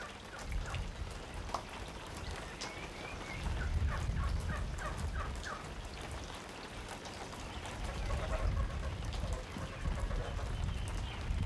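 Geese and ducks on an old-style farm calling in short gobbling honks and quacks amid steady rain pattering on surfaces, the birds moderately near and the rain a constant wash beneath them.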